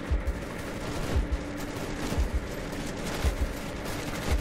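Machine gun fire in the modded war game Ravenfield rattles in short repeated bursts, roughly one burst per second, loud and punchy over a constant background of distant battle noise.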